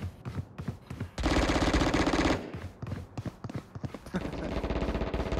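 Rapid automatic gunfire rattles through a first-person shooter match, fired in short bursts and then one long sustained burst, loud and close, with scattered single shots between.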